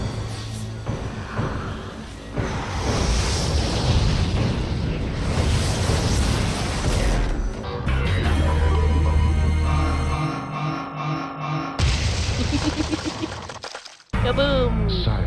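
Explosions and shattering blasts from a Cyrax fatality in a Mortal Kombat fighting game, loud bursts layered over game music and effects, with a voice talking over parts of it.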